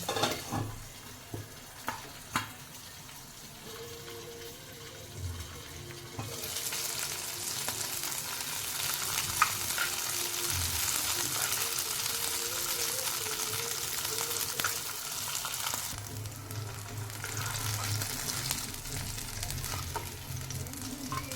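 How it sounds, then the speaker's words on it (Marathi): Green chillies frying in oil in a pan, stirred until their colour changes; a loud continuous sizzle builds up after a few early clinks and stirring sounds and holds steady to the end. "त्याच्यामध्ये या मिरच्या आपल्याला रंग बदलेपर्यंत परतून घ्यायच्या आहेत"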